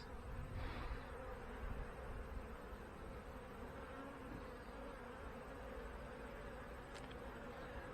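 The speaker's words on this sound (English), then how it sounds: "quite a few bees" Honey bees buzz steadily around an open hive frame, a dense, continuous droning swarm close by with no pauses.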